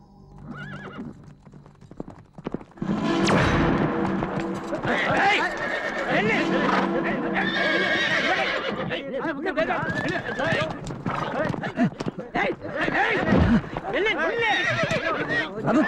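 Horses pulling a royal chariot in a Tamil horror film neigh and whinny while hooves clop steadily, loud and close, layered over dense music and effects for most of the stretch, with voices briefly underneath.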